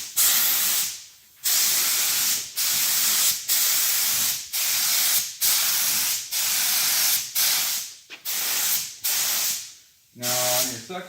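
A spray gun lays a heavier coat of metallic paint onto a bumper cover. Roughly ten steady, loud hissing passes run about a second each, each cut off by a brief gap, with a short pause near the end.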